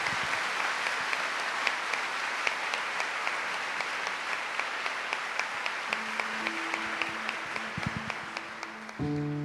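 A church congregation applauds during Mass, a steady patter of many hands clapping at moderate distance; near the end a few sustained organ or keyboard notes begin under the fading applause.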